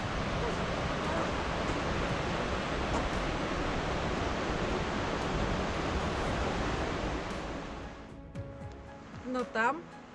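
The Erma River rushes through its gorge in winter, a steady broadband roar of flowing water close by that thins out toward the end, where a few brief clicks and a faint whistling tone emerge.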